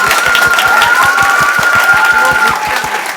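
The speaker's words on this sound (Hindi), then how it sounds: "एक बार एक जोरदार ताली बजाइए," Loud, close applause fills a student award ceremony as a crowd claps in dense unison, with rhythmic heavy claps and a sustained tonal hum running beneath before it eases slightly near the end.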